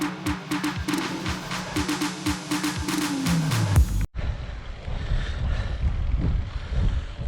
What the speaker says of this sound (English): It's very windy today actually, it's about 15-mile-an-hour wind